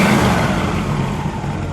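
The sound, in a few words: 1960 Pontiac Bonneville 389 V8 engine revving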